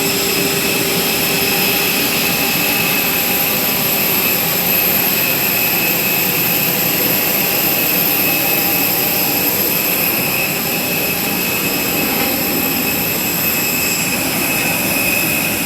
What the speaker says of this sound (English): we are in Halim Airport instead of Soekarno-Hatta International Airport